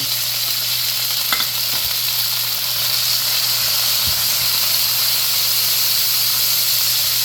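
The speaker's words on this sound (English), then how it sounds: "I'm gonna go ahead and throw our tomatoes in one time so these can start" Tomatoes sizzle steadily in hot melted oil in a pot for a fish stew, a loud continuous frying hiss with a few faint clinks of a utensil, and no voices.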